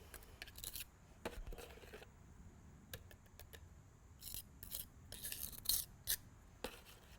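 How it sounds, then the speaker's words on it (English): A small margin trowel spreads and scrapes a concrete patch on a driveway or patio surface in quiet, irregular bursts of gritty scraping and clinking, close by and with no talking. "I'm just going to use the smaller trowel here, smaller margin trowel."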